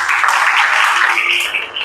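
A church congregation applauds in a dense, steady wash of many hands clapping together, sustained evenly from start to finish with no voices above it.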